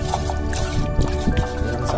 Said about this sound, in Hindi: हम पानी से साफ कर रहे हैं इसको, मटकी को साफ कर लेंगे